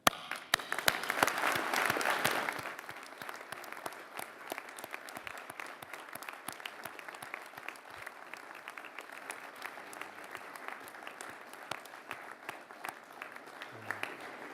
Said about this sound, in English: join me in a round of applause acknowledging the contributions your family, friends, academics and supporters have made